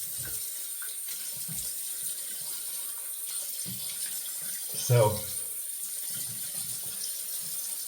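Hot tap water runs steadily into a sink during a wet shave, a constant soft gushing stream with a brief louder splash midway, under a single spoken word.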